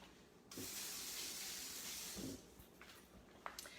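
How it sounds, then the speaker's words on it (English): Tap water runs into a kitchen sink while a hand is rinsed, a steady close hiss that starts abruptly, holds for about two seconds, then breaks into a few light splashes and drips. "Let me rinse my hand."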